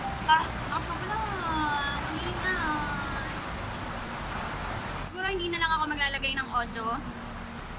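Heavy rain pours steadily outside, a dense continuous wash of noise under someone talking, with louder bursts of rain toward the end.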